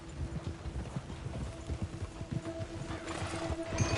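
Horse hooves clip-clop in a steady, even rhythm in the video game Red Dead Redemption 2, over a faint low hum from the game, with no voices.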